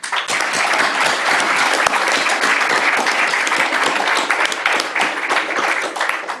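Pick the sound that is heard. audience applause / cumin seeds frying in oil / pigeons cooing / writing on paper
audience applause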